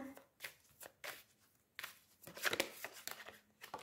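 Soft papery riffles and flicks as tarot cards are shuffled and one is drawn, several short bursts close to the mic with a faint crinkle, no voice.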